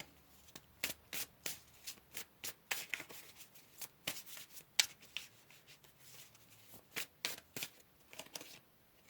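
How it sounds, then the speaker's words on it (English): A deck of tarot cards is shuffled close by in a run of crisp, riffling flicks and slaps, irregular bursts with short pauses between them, with no talking over them. "So let's pull you guys some tarot."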